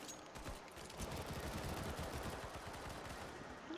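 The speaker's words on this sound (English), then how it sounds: "I hear a lot of gunfire." Rapid gunfire from the video game Counter-Strike, bursts of automatic weapon shots crackling in quick succession at moderate volume, continuing throughout without talk.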